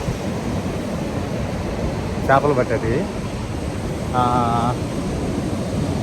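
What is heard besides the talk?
sea waves at Mypadu beach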